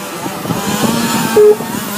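Touring race cars circle a track at a Fortaleza circuit, their engines droning loud and steady with a rising rev near the end.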